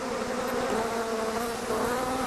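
Africanized killer bees swarming in Arizona or Texas, a dense, steady buzzing drone of many insects that holds at an even loudness throughout, close and continuous with no voices.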